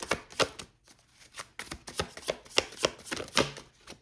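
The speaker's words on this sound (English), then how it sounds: "Okay, so I'm going to shuffle these." A deck of tarot cards is shuffled close up, producing quick, crisp riffles and soft taps in irregular bursts, quiet and alone with no talking.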